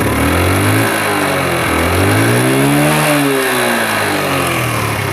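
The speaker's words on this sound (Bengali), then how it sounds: "স্টার্ট কিন্তু হয়ে গেছে, আপনি বুঝতে পারবেন না, গাড়ি কিন্তু স্টার্টের উপরেই আছে।" A Japanese Honda Super Cub 50cc motorcycle with its original silencer runs close and loud: a buzzing idle rises into short revs that climb and fall back, then settles into a steady idle.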